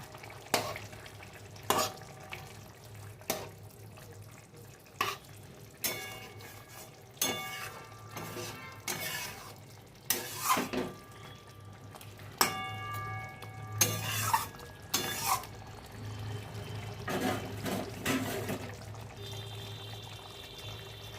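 Paneer gravy with cashew, coconut and pointed gourd cooking in a pan, with repeated sharp spoon scrapes and clinks over a low steady simmer, a few bright metallic taps standing out; no talking.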